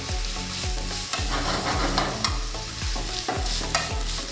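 Okra bhaji with garlic and ginger sweats in olive oil, a steady close sizzle broken by a regular series of spoon scrapes and stirs roughly every half second throughout.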